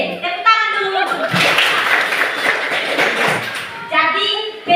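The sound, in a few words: class clapping hands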